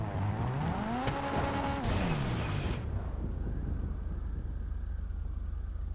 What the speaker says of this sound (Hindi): बर्फ पे गाड़ी सिलप ले रही है